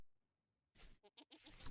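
A sheep in the survival game Vintage Story gives a short, quavering bleat in two or three pulses after a moment of silence, fairly close and alone.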